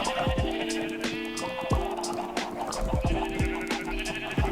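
Sheep bleating in the video game Minecraft, several short wavering bleats repeating over a busy background of game sounds, fairly close and clear.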